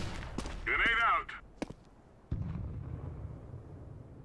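A grenade detonates in CS GO with a sudden heavy boom followed by a long low rumble, preceded by a brief electronic warble and a few sharp clicks.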